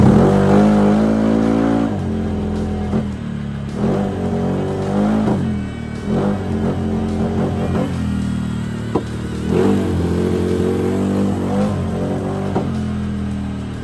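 A Honda Scoopy scooter bored up with a 57mm piston revs on a dyno, its engine rising and falling in repeated loud throttle bursts with a faulty TPS sensor.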